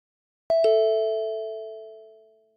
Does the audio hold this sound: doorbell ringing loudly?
yes